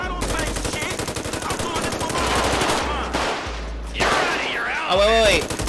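Loud, rapid automatic gunfire and bursts of shots fill a GTA 5 shootout, nearly continuous and close, with speech mixed in among the shooting.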